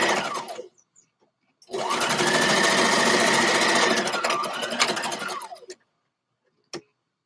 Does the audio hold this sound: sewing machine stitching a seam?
yes